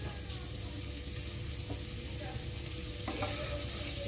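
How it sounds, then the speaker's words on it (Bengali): Chopped beetroot and carrot fry together in oil for a vegetable chop filling, giving a steady, close sizzle with occasional stirring clinks and scrapes throughout, no voices. "বিট কুচি, গাজর কুচি একসাথে তেলে ভেজে নিচ্ছি।"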